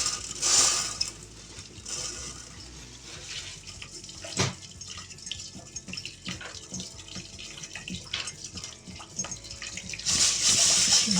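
Mung beans being rinsed in water for a coconut-milk mung bean dish, with steady splashing, clinking and swishing throughout and louder running-water bursts near the start and end, no voices.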